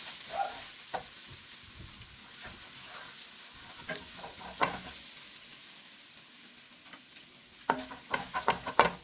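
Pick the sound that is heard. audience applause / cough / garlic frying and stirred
garlic frying and stirred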